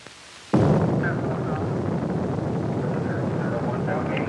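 Apollo rocket engines at liftoff give a sudden heavy roar that bursts in after a brief quiet and holds steady and loud, broad and rumbling, with faint radio voices over it.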